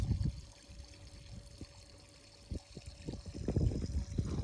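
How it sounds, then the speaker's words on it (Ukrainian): Water pours and splashes in irregular bursts, close by, over a faint steady hum from a homemade skimmer pump draining a handmade backyard pond. "Ось так воно у нас витикає вода."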